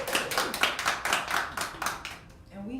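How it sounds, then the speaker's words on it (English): A small live studio audience claps in a run of distinct, closely spaced hand claps that thin out and stop, followed by a voice beginning to speak near the end. "Can I get a little bit of round of applause from our studio"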